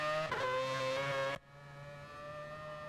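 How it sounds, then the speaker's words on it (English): Race cars at a BGWT Season 11 Round 5 qualifying session roar loudly past at close range, a dense engine howl that cuts off abruptly after about a second and a half and leaves a steadier, quieter engine drone. "Oh my lord, that car is really loud."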